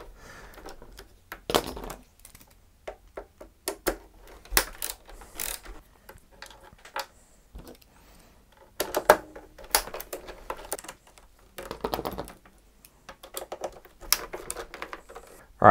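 Screws being worked out from under the feet of an Xbox console with a T15 Torx driver, giving close, intermittent ratcheting clicks and small mechanical taps in irregular bursts, with quiet gaps between them.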